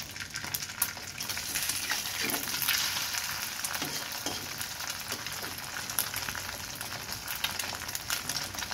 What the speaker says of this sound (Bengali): এই যে আমি এখন ডিমটা ভেজে নিচ্ছি পেঁয়াজ দিয়ে